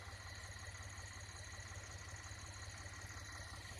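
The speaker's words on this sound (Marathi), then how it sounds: "ही ट्रॅक्टर चालू आहे" A tractor engine runs in a wheat field during sowing at night, giving a faint, steady low throb with an even pulsing rhythm and no voices.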